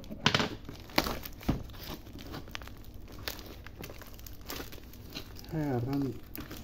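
Tight plastic wrap and tape are torn and crinkled off a cassette tape of an Indonesian album, with close, uneven crackles and sharp rips while a person talks now and then.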